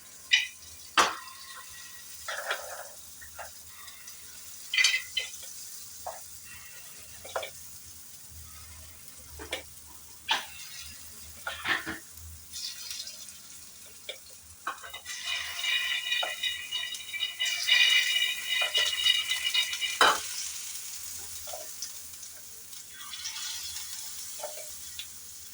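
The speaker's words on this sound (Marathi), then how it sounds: "तेल गरम झालंय, आता मी टाकते बेटर त्याच्यामध्ये." Appe batter is dropped into hot oil in an appe pan, giving scattered clicks and clinks followed by a rising, steady sizzle that fades slowly, close by and moderately quiet, with no talk.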